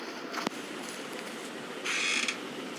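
A short mechanical creak of a lever or mechanism, with a brief click early on and a brighter grinding creak near the end over a steady hum.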